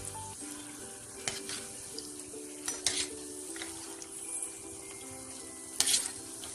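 Suyam sweets frying in hot oil in a pan, a soft steady sizzle with a few sharp clinks and scrapes as they are turned over, close and fairly quiet with no talk.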